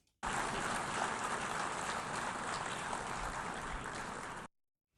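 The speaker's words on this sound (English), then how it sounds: "Isn't it wonderful to hear the loud applause for Trump's call to bring the hostages home now?" Loud, dense applause from a large crowd filling the hall after a call to bring hostages home, a continuous wash of clapping that starts abruptly, holds steady and cuts off sharply near the end.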